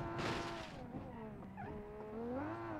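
A video-game car engine drones with shifting pitch while a brief hiss and squeal of a tire puncturing cut in midway, all fairly faint.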